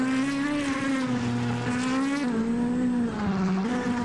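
GT500 race cars at the Okayama Grand Prix in a racing game, a loud, steady high-revving engine whine shifting pitch through gear changes, close up with no voices over it.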